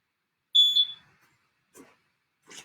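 A home band-workout interval timer sounds one loud, clear electronic beep tone of about half a second, followed by a pair of faint, short clicks or taps a moment later in an otherwise quiet room.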